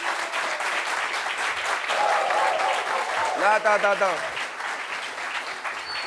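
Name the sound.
audience applause for a guest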